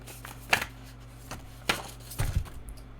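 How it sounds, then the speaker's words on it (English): A deck of tarot cards being shuffled in three quick riffling bursts a little over a second apart, with softer handling clatter in between, close and clear with no speech. "I literally shuffled this deck."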